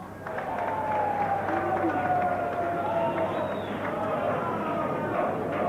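Crowd at the 1986 NFL Draft in the Marriott Marquis Hotel cheering and applauding for Bo Jackson's selection, a sustained roar under a broadcaster's voice.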